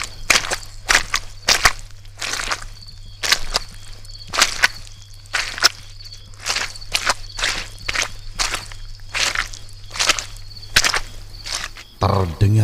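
Slow, evenly spaced footsteps thud one after another against a steady low hum, each step sharp and distinct, running without pause through the whole stretch.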